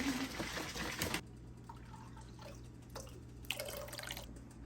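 Lemon juice is poured into a pot for a Maryland-style blue crab seafood boil: a short, steady splashing pour that gives way to sparse, quiet drips and trickles against a low background hum.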